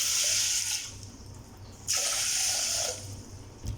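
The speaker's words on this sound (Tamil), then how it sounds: "தேவையான தண்ணி சேர்த்துக்கோங்க." Water pours in two steady gushing bursts into a pressure cooker holding roasted green gram, close and alone with no talking.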